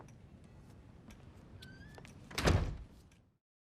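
A door closing in GTA 5 gives one solid thunk near the end after a quiet interval of faint ambient sounds, then silence.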